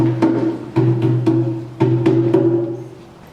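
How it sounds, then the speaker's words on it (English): Resonant drum strikes land in a slow, fairly even beat, each boom ringing out briefly before the next; no talking. "we're going to go into drumming, and it's going to sound like this"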